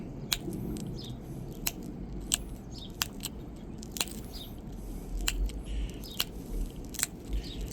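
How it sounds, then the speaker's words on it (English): Brass tool pressure flaking a Clovis-style stone point, pressed straight down to bevel the edge, giving sharp isolated clicks and ticks spaced irregularly over faint background hiss and distant birdsong. "Just going to pressure flake it. Now we're just pressing straight down."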